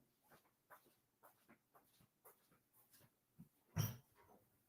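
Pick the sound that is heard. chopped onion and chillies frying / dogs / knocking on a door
dogs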